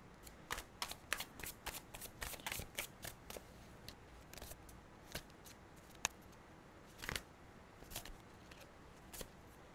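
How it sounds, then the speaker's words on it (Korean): Tarot cards are shuffled and drawn by hand, giving quick rapid riffling bursts followed by sparser single card snaps and slides, close and soft with no speech. "카드 뽑아보겠습니다"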